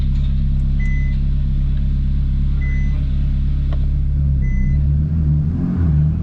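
A totaled 2012 Ferrari California engine idles steadily while the car reverses, a loud, close, constant low rumble with no change in revs.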